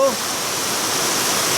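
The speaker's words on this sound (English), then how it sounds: "the water splashes into the ground right up here." Water from a heavy rainstorm pours off a roof with no gutter and splashes onto the ground below. It makes a loud, continuous rushing and splattering that never lets up.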